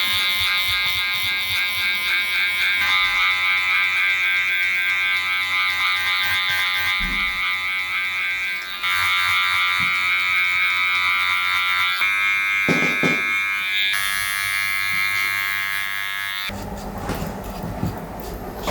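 Electric hair clippers with a guard fitted and the lever open run steadily through a long-to-short haircut, a close, continuous high-pitched motor whine that shifts slightly in pitch as passes change.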